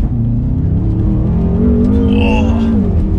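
A BMW M5 on new tyres in sport mode launches hard from a standstill, its engine roaring loud and close as revs climb steeply, with a brief tyre squeal near the end.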